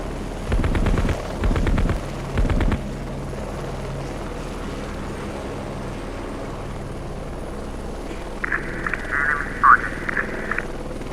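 A scout helicopter in a video game drones steadily in the background, with loud bursts of rapid fire in the opening seconds and a short run of electronic tones near the end.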